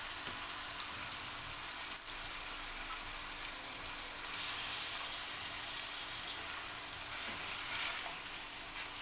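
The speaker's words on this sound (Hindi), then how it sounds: "इसको करते हैं मिक्स और भूनना स्टार्ट करते हैं।" Washed meat sizzles and fries in a pan while being stirred for chicken korma, a steady, loud hiss with faint scraping throughout and no talking.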